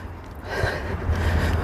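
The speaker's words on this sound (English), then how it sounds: "You can probably hear me breathing hard." A man breathes hard straight into a handheld microphone outdoors at a protest by a Tesla dealership, giving a short, close, rough exhale with low wind-like rumble underneath.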